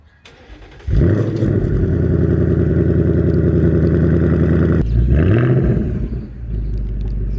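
A 2024 Ford Mustang Dark Horse engine catches on remote start and settles into a loud, steady rumble, briefly dips and revs again automatically, then idles on, close by.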